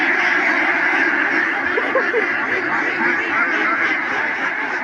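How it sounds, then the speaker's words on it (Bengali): A flock of farm ducks quacks loudly and continuously at close range, a dense overlapping chorus of raspy calls with no pause. "হাঁসেকে একটু ডাক দিয়ে দেখেন কত সুন্দর লাগে"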